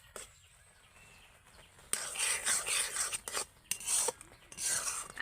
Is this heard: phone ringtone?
no